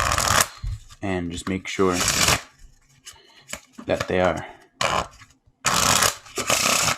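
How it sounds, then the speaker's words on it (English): A deck of playing cards shuffled in short crisp riffling bursts, several quick runs separated by pauses, close and clear between bits of speech from a person talking. "we're going to shuffle the cards"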